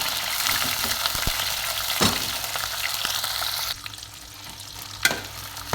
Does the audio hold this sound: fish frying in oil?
yes